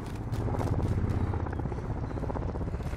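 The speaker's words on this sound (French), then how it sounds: "Drone ennemi au-dessus." An enemy drone in a video game hovers overhead with a steady, loud rotor-like whir and a pulsing, choppy drone throughout, no voices.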